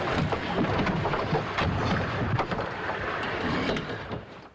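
A sailboat jibing on a Utah lake: steady rushing wind and water noise fills the scene, with a few sharper flaps and knocks as the sail and boom swing across.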